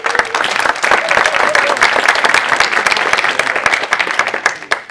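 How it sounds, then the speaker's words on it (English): A crowd at an AI tech event claps loudly to welcome the next speaker on stage, dense sharp claps running steadily and thinning out near the end. "So give him a warm round of applause."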